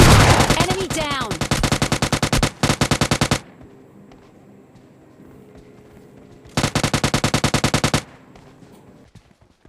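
Loud, rapid automatic gunfire in the mobile shooter PUBG Mobile Lite, two long bursts of evenly spaced shots separated by a quieter stretch of faint scattered game noise and occasional distant shots.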